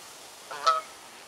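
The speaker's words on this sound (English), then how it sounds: "this place has just been inundated with geese since I was last here" Geese on a lake give a short burst of honking, a couple of calls close together, fairly faint against a quiet outdoor background.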